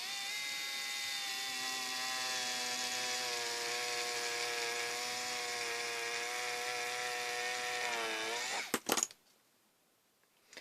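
A Sumo Grip EE3000 electric eraser held upright at a 90-degree angle whirs with a steady, close, high-pitched motor whine for several seconds, then winds down and cuts out, leaving near silence.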